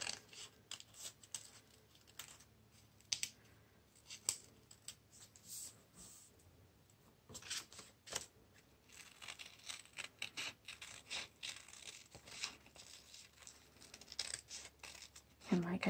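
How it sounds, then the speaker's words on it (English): Scissors snip through coffee filter paper to cut out ginkgo leaf shapes, making close, quiet, irregular crisp cuts and paper rustles that continue steadily while a voice talks at moments. "you want to make sure that you cut on the inside of your line"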